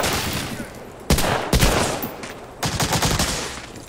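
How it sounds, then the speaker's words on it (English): Enemy rifle and submachine-gun fire in Medal of Honor: Allied Assault, a WWII shooter, crackles in dense overlapping volleys with sharp individual cracks, loud and close, no voices. "How are they blind firing these guns?"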